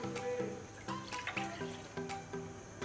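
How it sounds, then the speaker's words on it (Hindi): A glass of water is poured into a cooking pan, a faint, close splashing pour with small irregular drips and clinks, with no talk. "एक गिलास पानी डालें पैन में"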